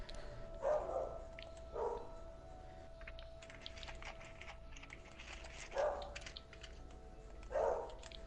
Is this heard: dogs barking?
yes